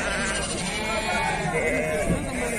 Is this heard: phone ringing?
no